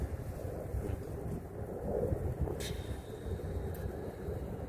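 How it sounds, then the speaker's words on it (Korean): Steady wind rumbles and buffets a microphone at a fishing spot on a waterway, a continuous low roar with gusty swells throughout and no talk. "하루 종일 바람이 많이 부네"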